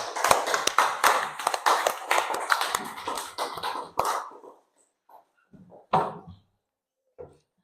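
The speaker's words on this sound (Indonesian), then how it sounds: "Oke, tepuk tangan untuk kelompok 3." Classroom applause for a student group: a few seconds of loud, close clapping from a small group of children that tapers into scattered, isolated claps with brief gaps of silence.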